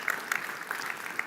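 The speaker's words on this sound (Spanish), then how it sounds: "les damos un fuerte aplauso" A Father's Day church gathering gives fathers a round of applause. Faint scattered clapping is heard from a distance, with no talking.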